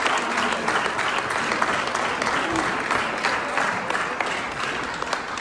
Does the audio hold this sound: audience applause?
yes